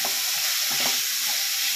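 Capsicum, cabbage and beans stir-fried for veg fried rice, a steady close sizzle running throughout with soft scraping and stirring knocks from the pan.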